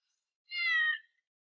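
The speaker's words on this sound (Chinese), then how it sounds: "这是我家猫咪 Cherry， 可爱吧？" A pet cat gives a single short, clear meow, close and isolated against silence.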